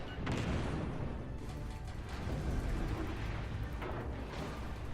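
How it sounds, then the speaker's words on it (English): Secondary guns on a warship in a naval combat video game keep firing at a target, a dense, continuous roar of booming shots and explosions with no break. "I've set my secondaries to go shoot the thing"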